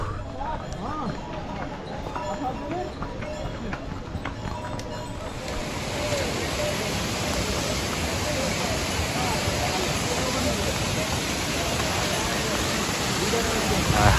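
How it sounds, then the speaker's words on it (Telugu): Waterfalls plunge from a great height near the Kedarnath trek, giving a broad continuous roar of rushing water that swells and stays steady, with people talking over it early on. "అసలు ఆ వాటర్ ఫాల్స్ చూడండి ఎంత ఎత్తులో నుంచి పడుతున్నాయో"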